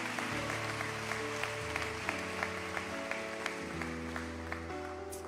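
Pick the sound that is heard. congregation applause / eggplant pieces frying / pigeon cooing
congregation applause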